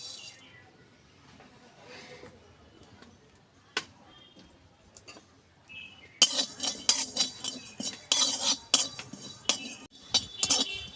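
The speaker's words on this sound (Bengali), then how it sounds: "এটা আমি শুকনো খোলায় ভেজে নেব।" Panch phoron seeds and fennel dry-roasting in a hot kadai: quiet and sparse at first, then loud, close rattling and scraping bursts as the seeds are stirred and tossed against the metal.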